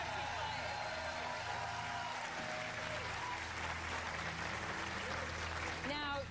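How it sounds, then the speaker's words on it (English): Television game-show studio audience applauding steadily and loudly throughout, a dense sustained wash of clapping with a brief voice near the end. "you deserve a round of applause for that."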